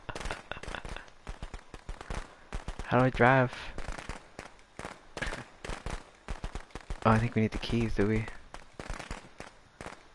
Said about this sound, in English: I just threw firecrackers at it.